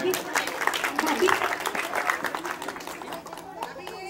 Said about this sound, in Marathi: सगळ्यांसाठी टाळ्या झाल्या पाहिजे.